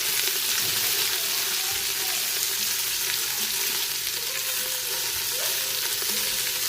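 Meat browning in a thin layer of olive oil inside a Power Quick Pot, a steady close sizzle and crackle running the whole time with occasional stirring scrapes and no talk.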